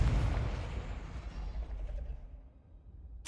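A Confringo blasting spell explodes in Hogwarts Legacy, a heavy booming burst up front whose low rumble rolls on and slowly fades over a few seconds, with no talk over it.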